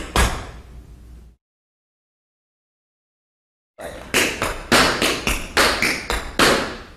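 Tap shoes strike a hard floor in ball changes: a short burst of taps, a silent pause, then a quick run of crisp, close, evenly paced taps.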